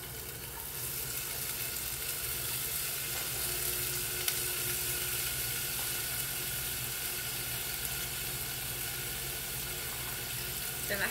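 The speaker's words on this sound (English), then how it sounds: "I'm going to saute my onions, peppers." Onions and peppers sauté in olive oil in a pot, a soft, even sizzle hissing continuously and faintly at close range, with no voices over it.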